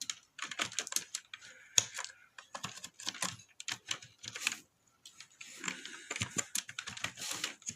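Someone types code on a computer keyboard, a close, quiet series of irregular key clicks in quick bursts with short pauses between them and no talking.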